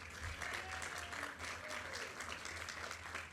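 An audience applauds at an outdoor bridge sign unveiling ceremony: dense, sustained clapping from a crowd, steady throughout with a faint voice underneath.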